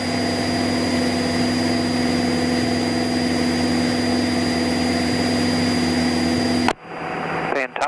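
A Cessna light aircraft's engine drones loud and steady inside the cabin at takeoff, with a constant hum that cuts off sharply near the end.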